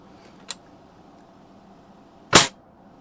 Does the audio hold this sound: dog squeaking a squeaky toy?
no